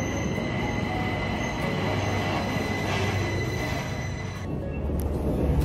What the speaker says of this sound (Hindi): मेट्रो आ गई है भाई, ये देखो